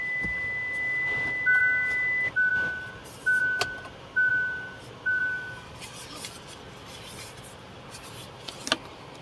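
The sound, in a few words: electric car no-key warning beep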